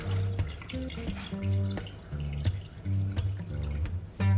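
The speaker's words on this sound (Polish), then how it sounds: "Już trochę wody doleję." Water poured into a ham cooker holding pork loin, splashing and trickling in uneven bursts close by, with hollow tonal ringing from the vessel and no talk.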